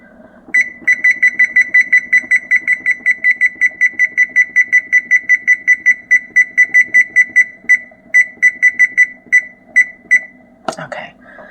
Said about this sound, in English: I will just set the timer again.